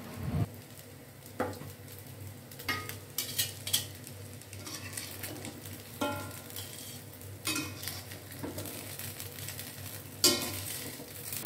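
Food frying in a wok at a warteg-style cooking setup, with a spatula clattering and scraping against the pan in irregular strokes over a faint, steady sizzle, close by and without talk.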